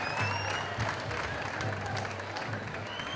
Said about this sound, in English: It's a good steady crowd in the grandstand